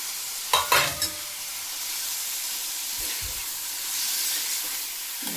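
Chopped potatoes and val beans drop into a hot pan, with a brief burst of stirring and scraping, then a steady loud sizzle and hiss of frying that continues alone.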